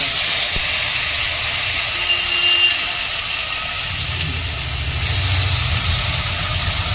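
Spice paste for a spicy tilapia curry hits hot oil in a pan with a broad, steady sizzling hiss that swells after a few seconds, close and loud with no talk.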